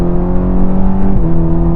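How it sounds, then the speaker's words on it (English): A 2023 Cadillac CT4-V accelerating hard in track mode, its engine roaring loud and close with steady rising harmonics and no talk over it. "let me pump the brakes here and let's rip the 2023 Cadillac CT4-V"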